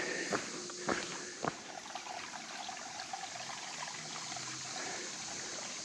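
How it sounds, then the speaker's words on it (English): A small creek trickles along a forest trail on the Long Branch Loop near Lake Blue Ridge, a soft, steady running-water hiss, with a few crunchy footsteps near the start. "Pretty little creek running down."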